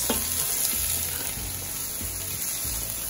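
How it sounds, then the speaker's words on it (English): Onions fry in a pan after golden garlic for jambalaya, sizzling steadily while a spoon stirs them with several regular scraping strokes. "add the onions. And cook the onion for about 2 minutes."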